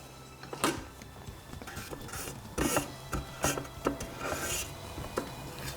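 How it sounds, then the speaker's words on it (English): A spatula scraping down the inside of a Thermomix bowl during lemon curd preparation, a series of uneven scraping and knocking strokes over a steady background hum, close and moderate, no talk. "We are going to scrape down the bowl."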